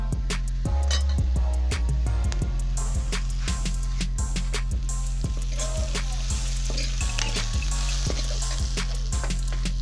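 Potatoes frying in a pan for an egg and potato sabzi, a steady loud sizzle with repeated sharp clinks and scrapes of a spoon stirring the pan.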